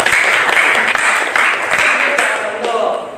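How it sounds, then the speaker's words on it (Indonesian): A classroom of students applauding a classmate, brisk loud clapping from a group close by for about three seconds, tapering off at the end. "Beri tepuk tangan dulu untuk Fajar."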